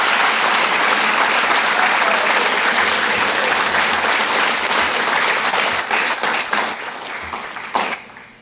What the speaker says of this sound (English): let's give our legends another big Rams round of applause